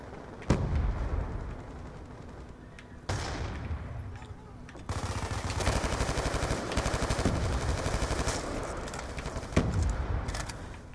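Gunfire in Call of Duty: Black Ops 2 gameplay, with sustained automatic bursts, sharp individual shots and a few heavier blasts, loud and close, with a voice briefly talking over the action.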